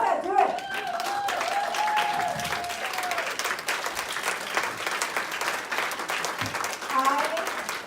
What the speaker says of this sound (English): Why don't you stand up and give yourself another round of applause?